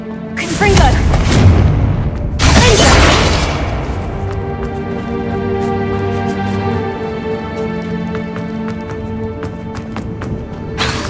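A Confringo blast spell from Hogwarts Legacy goes off in two loud, broad bursts close together, with a booming low rumble and a ringing tonal tail that fades slowly. Dialogue sits over the blasts.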